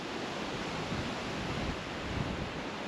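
Steady broadband wash of choppy lake water lapping, with wind rushing across the microphone throughout; no voices.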